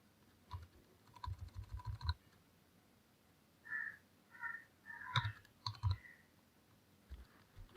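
Keys tapped on a computer keyboard while entering text into an MS Word document, faint clusters of quick clicks in short bursts with pauses between, alone without talk.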